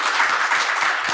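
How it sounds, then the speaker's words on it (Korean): Congregation applauding in a church at an Easter service: a dense, even burst of many hands clapping, close and loud, lasting about a second. "우리 하나님께 영광의 박수 한번 올려드릴게요"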